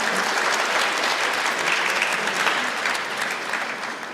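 An audience applauds steadily and loudly after two choirs perform at a Teachers' Day ceremony, a dense wash of many hands clapping that eases slightly toward the end.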